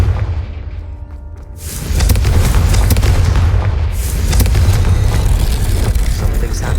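A Confringo fire-blast spell erupts in a magical open-world game, a sudden loud roaring boom that swells and holds as a dense rumbling blast for several seconds after a quieter lead-in.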